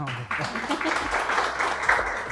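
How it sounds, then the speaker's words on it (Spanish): An audience at a university business-faculty presentation at Universidad Panamericana bursts into sustained applause that starts abruptly and holds steady, a dense wash of clapping from many hands. "les pido que le demos un aplauso"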